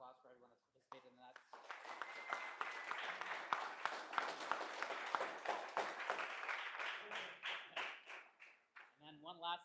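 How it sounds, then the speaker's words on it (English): A large round of applause from a conference audience for participants at a sustainability event, dense sustained clapping building over several seconds and then fading, with a voice talking before and after. "Maybe a huge round of applause for everyone that's participated in that"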